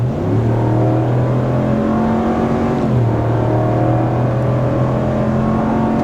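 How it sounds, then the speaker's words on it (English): A 2023 RAM 1500 Limited pickup truck accelerates, its engine note climbing steadily, dropping at a gear change, then climbing again. It is loud and continuous, heard from inside the cab, with no talking. "Here's a little bit of acceleration."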